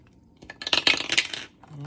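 Dice clatter and tumble on a hard surface in a quick bright burst of rattling clicks that settles within about a second, close and fairly loud with no talking.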